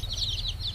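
Young chickens peep and cluck softly while eating cooked rice, a quick run of high, faint calls close by over a low, steady background hum.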